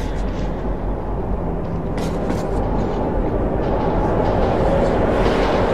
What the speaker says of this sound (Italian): È un treno fantasma.